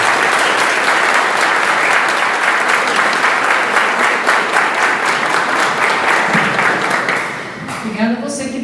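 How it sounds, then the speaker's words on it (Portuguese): A community civic-week audience bursts into loud, sustained clapping that fills most of the stretch, then tapers off as a voice begins speaking near the end. "Salve de palmas para Deus"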